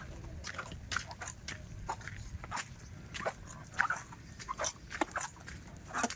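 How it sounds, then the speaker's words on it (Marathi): Dogs on a farm with papaya and coconut trees, heard as repeated chewing and biting sounds with small whimpers over a steady outdoor background, fairly close and moderately loud, no talk. "इकडून दोन कुत्रे पण आहेत"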